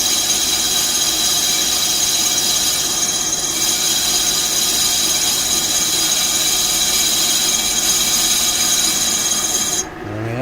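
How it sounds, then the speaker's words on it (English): A lathe boring bar cuts a chamfer into the centre hole of a car brake disc (rotor). A steady, loud machining whine holds for about ten seconds and then drops off abruptly at the end. "So now we've changed the angle of the boring bar so that we can use it to cut our chamfer"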